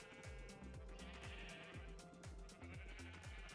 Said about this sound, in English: We really need to move them sheep at some point.